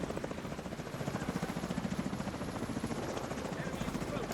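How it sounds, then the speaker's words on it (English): Helicopter in an online shooter game, a loud close chopping rotor with rapid, regular beats sustained throughout, with a voice partly masked underneath. "Wonder how many choppers we'll get here"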